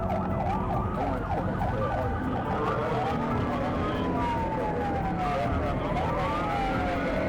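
Police car sirens wail and yelp during a high-speed chase through city streets, several overlapping and sweeping up and down over constant loud traffic and engine noise.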